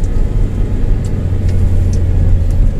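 A Daihatsu All New Terios climbs a steep, extreme hill road in second gear, giving a steady, loud, low engine drone with a constant rumble and no talk.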